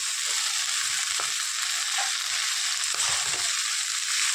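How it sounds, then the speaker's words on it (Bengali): Red amaranth greens frying in a pan with onion, garlic and green chili give a steady, loud, close hiss and sizzle, with a few faint stirring scrapes and no talk. "এবার শাক ভাজাটা বসাবো"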